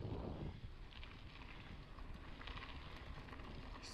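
Strong wind buffets the microphone during a mountain bike training ride on a 53 km route near Barretos, São Paulo, a continuous low rumbling roar that is loudest at the start.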